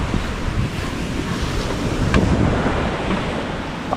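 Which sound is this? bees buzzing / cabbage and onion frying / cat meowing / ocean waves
ocean waves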